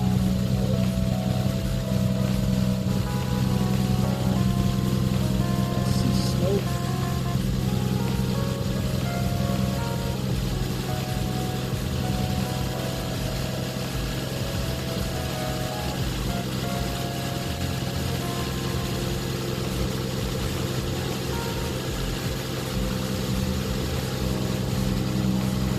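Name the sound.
Lexus GS300 engine idling with new Flowmaster exhaust manifold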